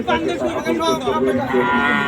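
A bull at the Chandaikona cattle market gives a loud, sustained moo close by, backed by a murmur of crowd chatter.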